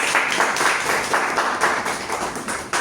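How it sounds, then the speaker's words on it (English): Applause from a Toastmasters club audience welcoming a guest, a dense steady patter of clapping that runs continuously for a few seconds at close, even loudness with no voices on top. "give him a big round of applause"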